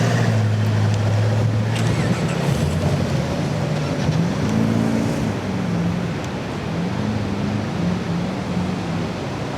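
A V8 4x4 bogging down in coarse beach sand on low tyre pressures, its engine droning steadily and rising and falling in pitch as it strains, under heavy wind noise and with no talk.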